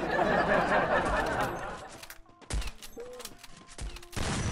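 Rapid volleys of shotgun gunfire in a video game, loud sharp bursts up front that break into scattered single blasts, with players chuckling and reacting in between.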